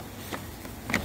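Honeybees buzz softly around an opened, disease-hit hive that has been split. A faint, steady insect hum carries a few brief louder passes close by.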